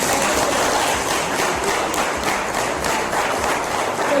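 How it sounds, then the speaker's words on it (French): A hall audience at an open day event in Bénin applauds, a dense, steady wash of many hands clapping throughout, loud and continuous without talking. "Applaudissez pour vous-même"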